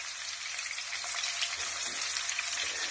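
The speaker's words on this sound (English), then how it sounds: "And you want to hear that sizzle." Aubergine slices sizzle and crackle steadily in hot oil in a pan, a faint, even hiss with no talking.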